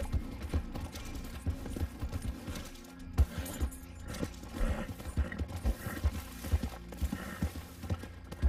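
Horse hooves clip-clop at a steady trot in the Western video game Red Dead, close and fairly loud, with a brief whinny and layered game ambience and effects around them.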